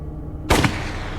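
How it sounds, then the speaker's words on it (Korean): A gunshot in a Korean audio drama, a single loud, sharp blast with a short booming tail, standing alone over a low steady background with no talk. "윤설과 하필은 총성이 그전보다 커졌음을 동시에 느끼고 있었다"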